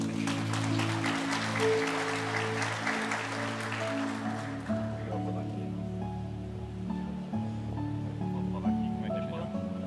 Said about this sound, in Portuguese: Uma salva de palmas, por favor.